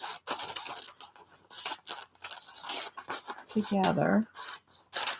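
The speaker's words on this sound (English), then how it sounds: "I'll just cut these 4 pictures out" Scissors snip pictures out of a magazine, with a few crisp paper cuts, the clearest near the end. A person talks over much of it.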